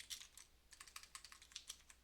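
Keys clatter on a computer keyboard in a quick, uneven run of light clicks, close and quiet, with no talking.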